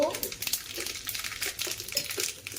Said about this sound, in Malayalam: എണ്ണ വെച്ച് ചൂടായി, കടുകിട്ടു.